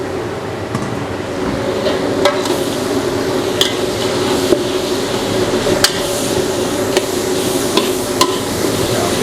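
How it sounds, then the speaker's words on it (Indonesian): Cauliflower, corn and carrots are stir-fried in a pan under a steady close sizzle, with sharp scattered clinks of a utensil scraping and knocking the pan every second or two, no talk. "Kita tumis dulu."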